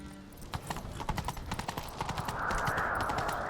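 Hoofbeats of a galloping horse in The Witcher 3 video game pound in a fast, steady rhythm, close and loud, with a rushing noise swelling in the second half.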